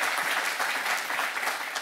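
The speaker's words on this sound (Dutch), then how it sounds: "Dus dat verdient wel een applaus" Steady, dense applause from an academic audience congratulating a doctoral graduate, continuous and even throughout.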